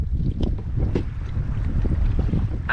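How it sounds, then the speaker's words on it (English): Wind buffets a boat at sea, with a loud, constant rumble and gusting across the microphone, and a brief creak near the end. "Wind's picking up."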